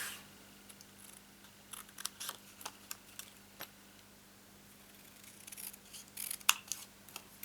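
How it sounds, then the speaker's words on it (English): Scissors snip through card oblongs, a series of quiet, crisp, irregular cuts close by, with a few sharper clicks toward the end over a faint steady hum. "you're going to cut them off"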